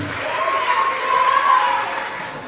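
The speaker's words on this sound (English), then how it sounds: "A round of applause, please, for Kinsey dancing with her father, Joe Flynn" Wedding guests applaud steadily throughout a father-daughter dance at a reception in Chelsea, Michigan, the dense clapping mixed with crowd noise and a faint sustained musical tone.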